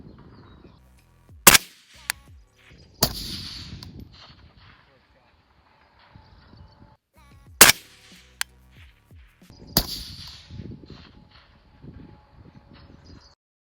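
Rifle shots from an 18-inch 5.56 or 6 ARC barrel on an outdoor range, four loud cracks in separate pairs with a faint distant impact after each and quiet talk between.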